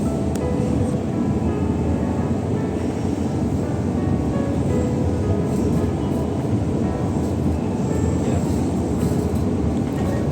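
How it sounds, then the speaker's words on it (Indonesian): Train ride past Jatibarang station in Indonesia, with a steady, loud rumble of rail wheels and carriage noise running continuously throughout. "Ini kita melintas stasiun Jatibarang."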